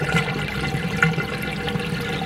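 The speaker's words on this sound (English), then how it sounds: "So there we have our water inside the bucket coming out" Siphoned water from a turtle tank pours steadily into a bucket, a close continuous trickling splash with no voices.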